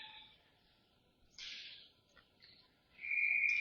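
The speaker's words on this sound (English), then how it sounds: "And they blow the whistle." A referee's whistle at a U18 recreational ice hockey game gives one sharp, sustained blast near the end, rising over low rink ambience after a brief burst of crowd noise.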